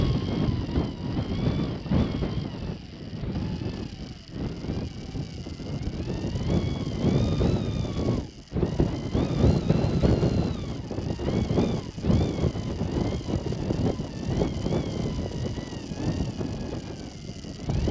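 Strong wind gusts buffet the microphone on an exposed hilltop with forecast winds around 20 miles an hour, a loud continuous roar that rises and falls throughout with no talking.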